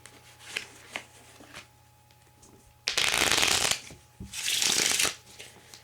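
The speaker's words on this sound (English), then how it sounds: "the spectator can shuffle up the deck as much as they want" Spectator riffle-shuffling a deck of playing cards, two loud crisp bursts of ruffling cards each about a second long, with softer card handling and light taps before them.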